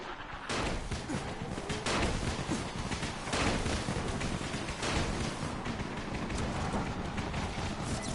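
Firecrackers thrown into a zombie crowd in Dying Light, bursting in a continuous crackling barrage of sharp pops and thuds, loud and dense throughout.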